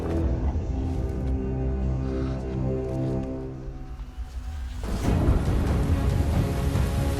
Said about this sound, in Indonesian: Malam tiba dan hujan kembali turun.